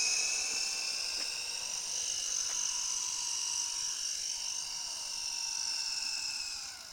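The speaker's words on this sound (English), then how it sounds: "I'm gonna try and fly this helicopter" A small toy helicopter flies with a high, thin whirring buzz from its rotor and motor, steady and close for several seconds before fading slightly at the end.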